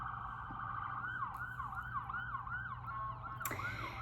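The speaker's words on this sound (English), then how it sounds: "there have been sirens nonstop today" Wailing emergency vehicle siren sweeping up and down repeatedly, steady and moderately near, from a festival a couple of blocks away, with a brief sharp noise near the end.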